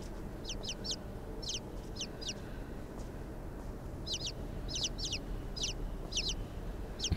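Chickens in the video game Inside chirp and cluck in quick, high clusters, sparse at first and then more frequent, heard fairly clearly over a low rumbling game ambience.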